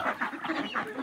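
Domestic ducks call in a quick run of nasal honking quacks, several overlapping in a short burst, fairly close and without talk.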